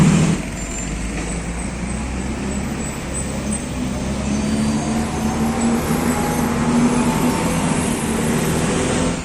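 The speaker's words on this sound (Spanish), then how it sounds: "por ahí tienen los camiones, me imagino que sea para recoger los escombros" Trucks idle loudly nearby at a closed-off street site in Havana, waiting to haul away rubble, with a deep continuous engine rumble and a faint rising whine, steady throughout.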